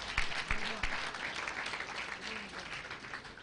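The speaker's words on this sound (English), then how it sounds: "can we give that round of applause again" An audience at a grand finale event applauds steadily, a dense continuous clapping that stays fairly even throughout, with a few sharper claps standing out near the start.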